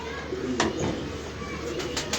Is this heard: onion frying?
no